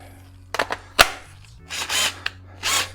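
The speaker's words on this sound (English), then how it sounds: "we're doing it with a hand drill, I hope." A cordless hand drill cuts into a part on a DeWALT air compressor being upgraded. A few sharp clunks come first, then two short, loud drilling bursts close by.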